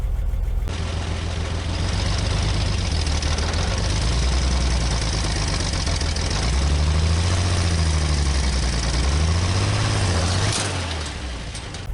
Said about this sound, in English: let's give it some gas